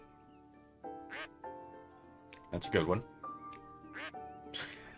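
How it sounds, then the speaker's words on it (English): Cartoonish duck quacks from the video game Lil' Guardsman, several short nasal bursts close up, interleaved with someone talking over them. "I told the producer I refuse to work with a duck."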